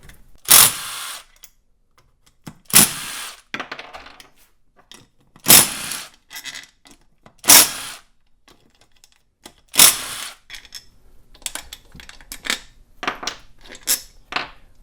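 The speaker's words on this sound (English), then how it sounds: "I'm going to just go ahead and remove this cover right now." Hand tools work on the engine cover of a YZ250F motorcycle during a top and bottom end rebuild, giving five sharp, loud bursts at even intervals with quieter clicks and rattles between them.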